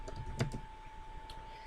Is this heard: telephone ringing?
no